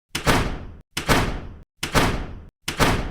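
Classroom doors in a haunted school slam shut one after another: four heavy, evenly spaced thuds, each followed by a short echoing tail and a moment of silence, close and loud.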